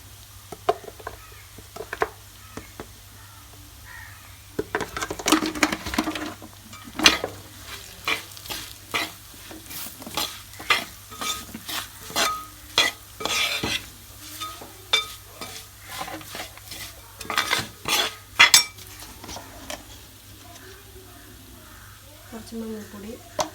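Grated coconut roasting in a pan with coriander powder and other spices for botti curry, stirred with a utensil that makes repeated close scraping strokes over a soft, steady sizzle.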